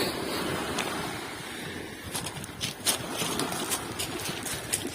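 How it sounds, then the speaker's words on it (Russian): Gentle sea waves wash in at a calm shore on an October day, a steady soft surf hiss with light wind across the microphone and a few brief louder splashes, no one speaking. "Вот такое сегодня ласковое море."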